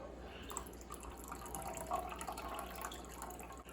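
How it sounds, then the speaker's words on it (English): Water from a cup is slowly poured into a guppy fish tank, a quiet continuous trickle and splash with faint drips, heard up close but at low volume. "I'm just going to get a cup of water, slowly pour it in there."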